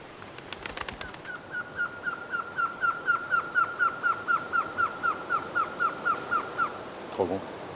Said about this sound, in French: Un autre trogon qui chante.